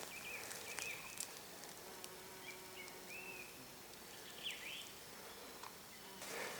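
Faint buzzing of mason bees and honeybees drifts through a quiet outdoor background, with a few brief higher chirps and passing hums, no voices.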